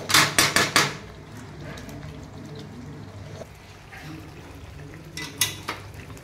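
A spoon stirs paneer into gravy in a pan, beginning with a quick run of four or five metallic clacks, then a soft ongoing simmer, then a few more taps near the end.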